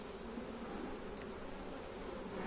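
Honey bees buzz at a beehive in a dense, steady, close drone with no break, accompanied by faint rustling.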